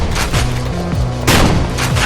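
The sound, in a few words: shotgun firing in video game Perilous Warp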